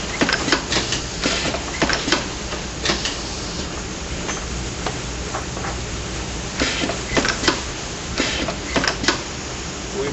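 An O-ring machine runs a cycle, giving loud, close mechanical clacks and clattering bursts in uneven clusters over a continuous whirring drone.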